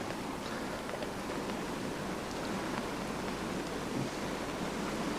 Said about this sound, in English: Well, the rain's falling a bit heavier now.